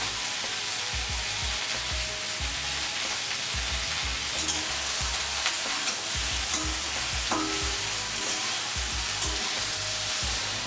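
Sliced okra fries in a pan with onion slices, slit green chilies and salt, giving a steady sizzle broken by repeated low clunks and scrapes of stirring.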